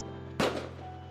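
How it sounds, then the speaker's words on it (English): A single fireworks burst in a holiday scene of a visual novel game, a sudden loud boom with a short crackling tail over soft background music and a steady hum. "Cheers to the fireworks"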